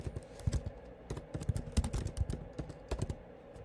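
Steady run of keystrokes on a computer keyboard, close and clear, with irregular clicks of varying loudness and no voices.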